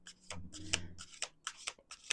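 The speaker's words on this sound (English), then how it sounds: "Okay, 2 more shuffles." Tarot cards are shuffled in several quick bursts, crisp riffling rubs spaced a moment apart, close and fairly quiet, with no talking.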